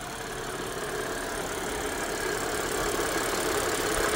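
A 2014 Audi A7 3.0T supercharged engine idles steadily at close range, a constant low rumble with a faint mechanical whine, no voices.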